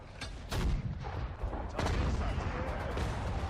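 An artillery gun fires in Sudden Strike 4, sharp booming shots with rumbling tails, several blasts in a row over a low battlefield din, fairly loud with no talk.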